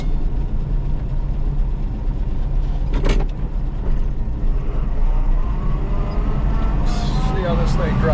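A 1957 VW Beetle, Diamond Green, being driven, its engine droning steadily with road rumble throughout, while people talk over the noise.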